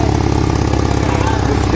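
An Opel Vectra car with a fuel-guzzling, smoky-exhaust fault runs at idle, a loud, close, evenly pulsing engine rumble heard with someone talking over it.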